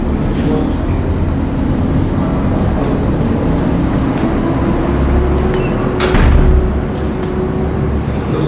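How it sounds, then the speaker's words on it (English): A door swings shut in a City Hall meeting room during a Board of Estimate and Contract session, one soft thud that rises briefly over a steady room hum with no talk. "You can close the door, George."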